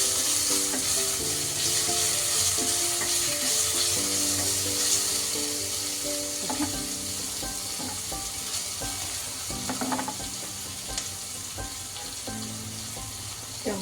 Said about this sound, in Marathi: ब्राऊन होईपर्यंत फ्राय करून घ्यायचं आहे. मध्यम आचेवर हे करायचं आहे बरं का